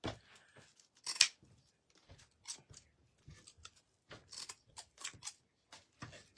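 Scissors snip through the ties on a deco mesh wreath decorated with beads, a few sharp cuts and crunches at close range among quiet handling noises, with no talking.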